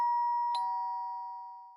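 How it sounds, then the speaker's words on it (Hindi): A doorbell chimes once at a family home's front door, a clear two-tone ding-dong whose bright ringing tones sustain and slowly fade, heard alone with no voices. "ये लो घंटी, मुझे ही जाना पड़ेगा।"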